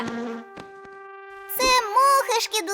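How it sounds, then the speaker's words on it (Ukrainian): A cartoon bee buzzes in steady harmonic drones with brief gaps, close and fairly loud, followed by animated voices talking over it. "Це звичайна бджола!"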